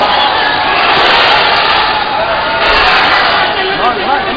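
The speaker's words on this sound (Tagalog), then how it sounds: "Kita po naman yung sigawan ng mga tao" A dense arena crowd roars and shouts continuously at a Ring Star boxing match, loud and close, with voices and commentary woven through the din.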